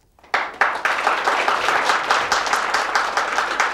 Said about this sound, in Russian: по праву эти аплодисменты всем вам